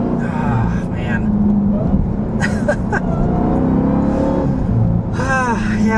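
The supercharged 6.2-liter Hemi V8 of a 2025 Dodge Durango Hellcat revs through manual shifts, its engine note climbing in pitch, dropping at a shift and climbing again, heard from inside the cabin under a talking voice.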